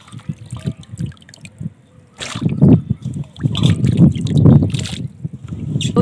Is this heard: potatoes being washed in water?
yes